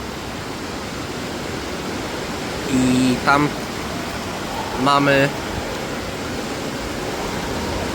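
Water falling steadily at an indoor aquapark entrance, a constant broadband rush running through the whole stretch, with brief speech over it.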